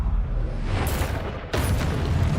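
Confringo spell blasts in Hogwarts Legacy, two loud booming explosions in quick succession, the second sharper and followed by a roaring rumble, no voices.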